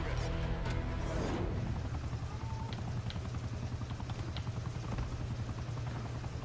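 A helicopter arrives in Call of Duty: Black Ops 6 as a loud, steady rotor thump that runs throughout, with a whooshing sweep near the start and faint distant pops of gunfire behind it.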